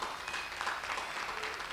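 Audience applause at the close of a church talk with a visiting bishop, steady dense clapping throughout the short stretch, moderately loud and close, with no voices rising above it.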